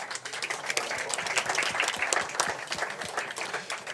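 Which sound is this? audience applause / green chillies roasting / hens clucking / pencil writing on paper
audience applause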